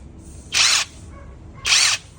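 A cordless battery impact wrench gives two short, loud bursts of about a quarter second each, separated by a pause of about a second, heard up close with no talking.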